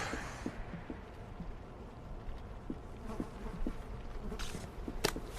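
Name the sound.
bees buzzing in video game We Happy Few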